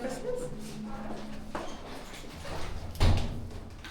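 Security door at a Cape Town diamond business, swinging open and then shutting, with a softer shift partway through and a sharper, louder thud near the end, heard nearby while people talk.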